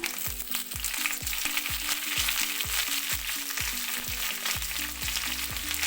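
Chopped ginger, curry leaves and green chillies sautéing in a pan, a bright continuous sizzle with a regular rhythm of spoon taps and scrapes against the pan, close and without voices.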